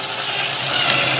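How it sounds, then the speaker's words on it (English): A screw gun drives screws into the wood of a DIY swing set, giving a brief, loud, steady motor whir with a rough, grinding edge that runs without pause and has no talk over it. "Thank goodness for screw gun."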